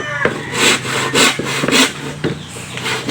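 A hand saw cuts through a plywood sheet in a run of loud, rhythmic back-and-forth strokes, close and steady, with no talking.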